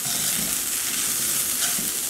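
Garlic tempering sizzles and is stirred in a pan over a low flame for garlic rice. A dense, steady frying hiss runs close and continuous throughout, with no talking.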